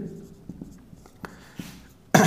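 Marker or chalk writing on a board during an electrostatics physics class, heard as a few faint, scattered taps and strokes, then a sudden louder noise at the very end.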